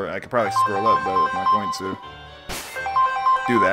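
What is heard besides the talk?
mobile phone ringtone ringing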